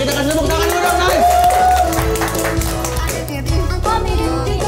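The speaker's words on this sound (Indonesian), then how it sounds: "Oke, kita kasih tepuk tangan dulu dong," Studio audience at a comedy talk show clapping and cheering loudly and steadily for several seconds, with voices mixed in over the applause.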